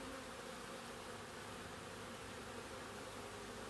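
A steady, soft hum of bees buzzing at the entrance of a hive, unbroken and with no talk.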